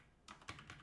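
A computer keyboard being typed on: four or five quick, crisp keystrokes after a brief quiet start, close and fairly soft, with no voices.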